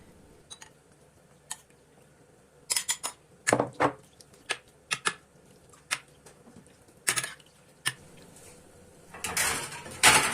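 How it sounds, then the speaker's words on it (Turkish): A tray of puff-pastry manti goes into an oven, heard as scattered clinks and clatters of a metal tray and oven parts, with a louder rattling burst near the end. "Şimdi hemen fırına atacağım."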